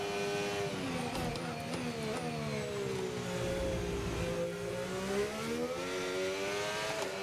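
Racing car engine in a VR sim racing game, revving with steady rising and falling pitch sweeps, loud and continuous throughout with no talk.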